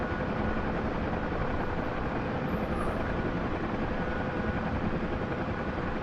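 A single-engine Huey helicopter in a flight simulator game gives a steady, dense rotor and engine drone that holds unbroken at an even level throughout.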